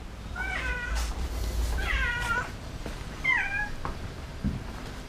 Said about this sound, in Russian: Сема, ты же был домашненьким котеньком